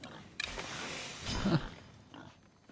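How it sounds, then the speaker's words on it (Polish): A pig in Assassin's Creed Odyssey grunts and snorts close by, a rough low grunt swelling to a louder burst in the middle before fading, with breathy scuffling around it. "Co ten prosiak?"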